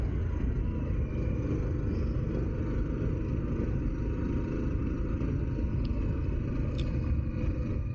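A Harley-Davidson Pan America motorcycle rides steadily near the summit of Guardsman's Pass, its engine a constant low rumble mixed with broad wind roar, with no break for the whole stretch.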